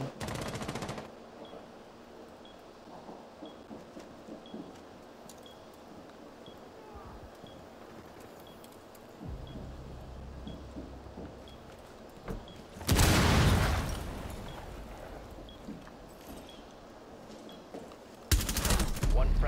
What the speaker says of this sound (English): Is that us shooting or them?